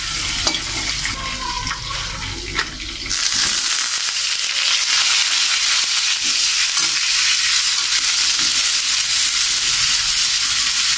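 Spice paste for loitta fish fry cooks in smoking mustard oil. A few seconds of stirring and scraping give way to a loud, continuous sizzle that fills the rest of the clip.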